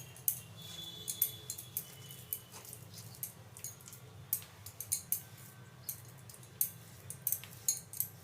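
A utensil scrapes ground pumpkin seed paste from a grinding surface into a bowl in a run of light, sharp clicks and scrapes, fairly close and unevenly spaced over a soft background hum.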